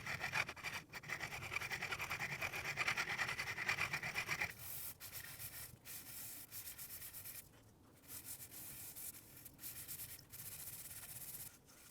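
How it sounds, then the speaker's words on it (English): A Yamaha 4C mouthpiece table is filed and sanded by hand, giving continuous close rasping strokes. The scraping is harsher at first, then turns into lighter, rhythmic rubbing with brief pauses. "So that's enough filing and sanding for the right side now"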